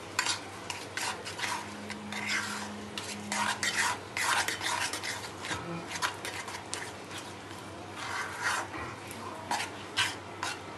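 Hot sugar syrup, just taken off the stove, is stirred quickly with a utensil in a pan: brisk, repeated scraping and clinking strokes, fairly close, with a faint sizzle underneath.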